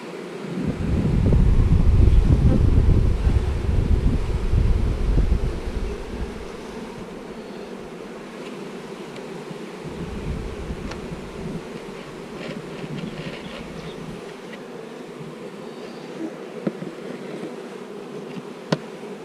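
A swarm of bees buzzes as a droning hum, loudest in the opening seconds and then steady at a lower level with wind noise across the microphone.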